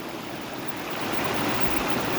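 Clear jungle river, the Pertap, flowing steadily with a continuous broadband rushing and babbling of water, close by and unbroken.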